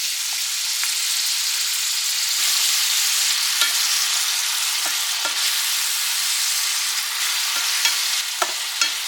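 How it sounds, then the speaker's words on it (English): Onions sizzle in a pan for an easy soup, a steady, close frying hiss that runs the whole time with a few small crackles and pops and no talking. "As soon as I let these onions cook for a couple of minutes and get just a little softer"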